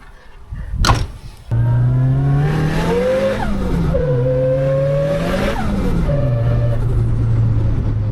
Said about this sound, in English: this is my fake Evo that is converted into rear-wheel drive